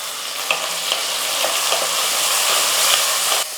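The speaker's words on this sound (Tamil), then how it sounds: "தக்காளி வெங்காயம்லாம் நல்லா வதங்கிடுச்சு." Tomato, small onions and curry leaves sauté in a hot pan for rice and lentil dish, producing a steady, close sizzle and crackle throughout, with faint stirring scrapes and no talking.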